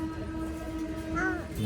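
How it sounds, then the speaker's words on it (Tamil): A small electric train passes with a constant rumbling drone, and a brief tonal horn-like wail rises near the end, while a voice is faintly heard in the background. "இது குட்டி ட்ரெயினாக இருக்கும்."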